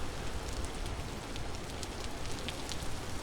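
Steady rain falls in the Vintage Story video game, a dense, even patter of drops on surfaces with faint scattered ticks and no talking.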